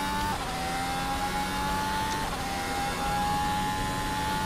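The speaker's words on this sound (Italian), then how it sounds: "stiamo per dar via questo giro lanciato dell'autodromo di Miami" Race car engine at sustained high revs during a flying lap of the Miami circuit, a steady loud drone with rising tone and brief dips at gear changes, continuous throughout with no talking.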